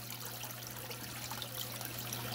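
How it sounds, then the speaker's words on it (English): Water trickles steadily over rocks in a waterfall tank, a soft continuous splashing with a faint constant hum beneath, close and quiet. "give me more of this sort of trickle this way."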